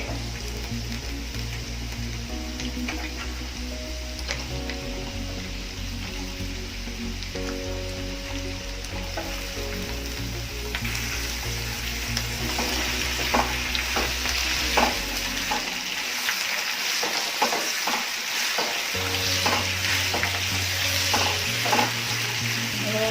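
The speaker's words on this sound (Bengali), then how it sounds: "আলুগুলো ভেজে নেব।" Potato pieces fry in refined oil in a wok, a steady close sizzle that grows busier and crackles more in the second half, over a background of sustained music with no talk.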